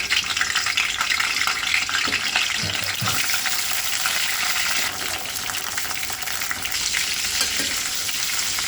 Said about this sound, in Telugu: ఈ ఆయిల్ హీట్ తర్వాత గుత్తి వంకాయని ఇలా ఫ్రై చేసుకున్నాము.